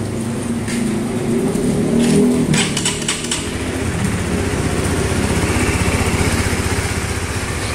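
Honda Sonic motorcycle engine warming up after a wash, idling with a steady, close, putting rumble that rises briefly near the start and then settles into an even pulse.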